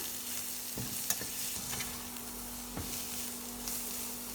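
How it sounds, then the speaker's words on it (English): Minced garlic and onions fry in a pan with a soft, continuous sizzle, broken by a few light clinks and stirring scrapes, fairly quiet and close with a faint steady hum behind. "Then add the minced garlic and onions"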